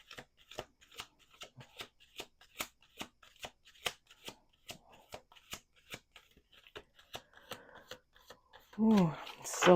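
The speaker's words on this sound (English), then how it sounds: "Two more shuffles." Cards riffle-shuffled in a series of sharp rapid clicks at a regular pace, close up, ending with a brief louder burst of handling.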